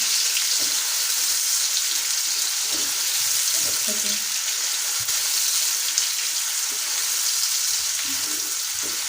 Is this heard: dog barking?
no